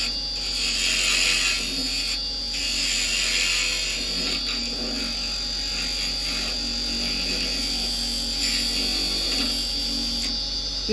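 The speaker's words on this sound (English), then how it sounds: "It's quite a big chuck, it takes a long time to slow down on this one." A wood lathe with a big chuck spinning down while turning a clock with carbide chisels, a steady close mechanical whir and rattle with a high whine that stays fairly even throughout.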